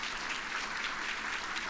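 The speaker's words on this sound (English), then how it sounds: "Please stand, Doretha, and give her a round of applause." Brief, fairly quiet clapping from an audience honouring a retiree at her retirement celebration, an even wash of hands with no voices.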